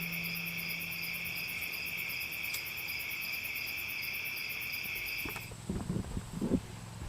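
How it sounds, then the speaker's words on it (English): Crickets chirp steadily at night in the big maples by a farm vineyard, a dense high-pitched trill held for about five seconds before it suddenly cuts out and low, nearby rustling and bumps take over. "the sound of crickets."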